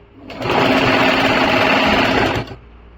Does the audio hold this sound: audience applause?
no